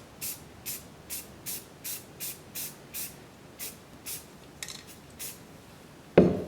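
Spray paint hisses onto an old desk panel in a series of about a dozen short, evenly spaced bursts, close and fairly quiet, ending with a louder knock.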